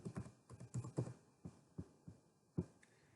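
Keys are typed on a computer keyboard in a row of soft, separate clicks and taps, faint and close, with uneven gaps between strokes and no talking.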